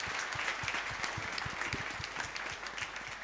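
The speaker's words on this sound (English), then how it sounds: "Let us give him a big round of applause." A congregation at an Easter Vigil Mass claps steadily in warm, sustained applause, dense and even throughout with no voices standing out.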